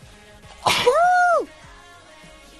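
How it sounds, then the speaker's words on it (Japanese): One close, forceful sneeze breaks a quiet moment. Its sudden breathy burst runs straight into a brief voiced tail, then fades back to near silence. "ちょっと今日くしゃみ出すぎかもしれない。"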